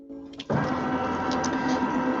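A sewing machine whirs into motion after a brief click, then runs at a steady, fairly loud mechanical hum close by.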